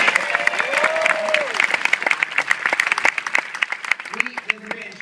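Audience applause at a film Q&A event for The World's End, a crowd clapping steadily and loudly throughout, with voices speaking and calling out over it.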